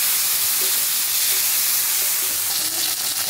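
Chopped tomatoes hit hot oil in a pan with a loud, steady sizzling hiss that stays dense throughout, close up and without talk.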